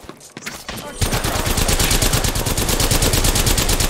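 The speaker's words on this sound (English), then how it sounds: "Getting shot at. Taking fire." Rapid automatic gunfire in the video game Apex Legends rattles on loudly and continuously after a brief lead-in of scattered shots.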